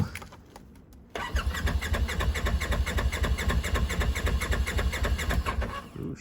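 Engine of a Polaris RZR Turbo or Honda Foreman is cranked with a few quick clicks, then catches at about one second and settles into a loud, steady, throbbing idle up close.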